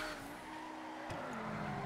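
Car spinning out during a taxi-themed street race in GTA V, a steady engine drone with a sliding tire tone that shifts abruptly midway, continuous and fairly close.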